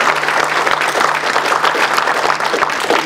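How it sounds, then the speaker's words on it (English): Audience at a business leaders lecture applauds steadily throughout, a dense, even wash of many hands clapping close and loud with no talk over it. "So perhaps another round of applause for Mike for the tour as well."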